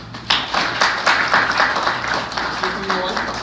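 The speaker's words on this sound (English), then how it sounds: "after a round of applause for them" An audience at a graduation ceremony breaks into a round of applause, the dense clapping steady and moderately loud, probably mixed with some background voices.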